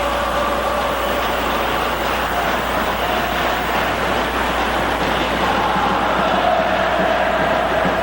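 A large crowd of Vasco da Gama supporters roaring continuously in a football stadium during a 1981 match against Internacional, a dense, steady, distant-sounding wall of cheering.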